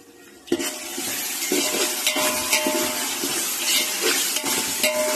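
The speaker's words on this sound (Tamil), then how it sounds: "தக்காளி நல்லா கொஞ்சம் வதங்கட்டும்" Tomatoes sautéing in a pan for mutton seeraga samba biryani, a loud crackling sizzle that bursts in after a quiet start, with spoon scrapes and stirring knocks repeating throughout.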